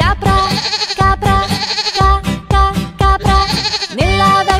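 Goat bleating in a children's nursery rhyme about an old farm, a series of loud wavering bleats repeated in rhythmic bursts, sung or voiced over light musical backing.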